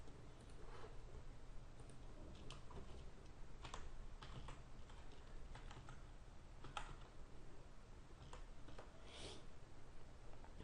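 Keys clatter steadily on a computer keyboard in bursts of quick taps over a constant background hiss, with no voices.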